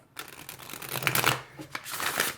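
Oracle cards being shuffled in quick riffling bursts, a crisp papery flutter repeating close by, with no voices.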